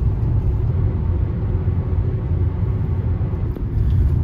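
Car cruising at around 103 on an empty expressway, a steady low road and engine rumble heard from inside, continuous with no other traffic.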